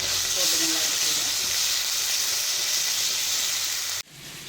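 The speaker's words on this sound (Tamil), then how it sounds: "கருவேப்பிலை, புதினா, கொஞ்சமாக மல்லித்தலை போட்டு நல்லா வதக்கிக்கலாம்." Onion, tomato, ginger-garlic, curry leaves, mint and coriander sauté in a hot pan, giving a loud, steady hissing sizzle that cuts off abruptly near the end.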